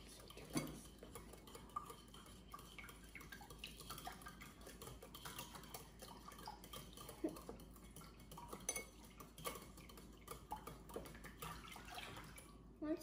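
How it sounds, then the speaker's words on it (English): A spoon stirs crepe batter with vanilla extract in a bowl, making steady soft clinks and scraping that run on throughout at a low, busy level. "Now I'm gonna mix it."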